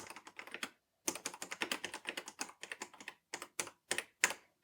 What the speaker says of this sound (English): So we can just type.